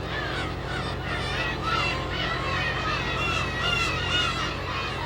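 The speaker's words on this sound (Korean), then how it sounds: "수많은 괭이 갈매기들이 날개짓을 하며 취재팀을 반긴다." A dense chorus of black-tailed gull cries at Dokdo island, many gulls calling at once in a steady, loud, overlapping clamor with no voices.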